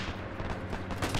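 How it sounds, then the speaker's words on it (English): Grenade explosions and gunfire in the Arma 3 WW2 German campaign form a dense, rumbling battle din, with booming blasts and crackling shots layered together continuously over a brief moment. "Dude, they're throwing grenades like crazy."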